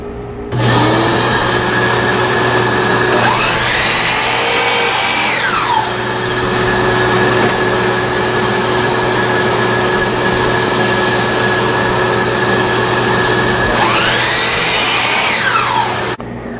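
A power tool cuts cypress wood splines for an outdoor deck bar table, giving a loud, steady motor whine that starts abruptly, holds for about fifteen seconds with two rising-and-falling pitch sweeps during the cut, then stops.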